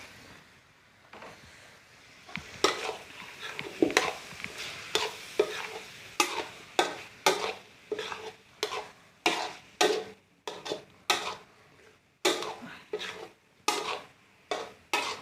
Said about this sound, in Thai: ค่อยๆผัดไป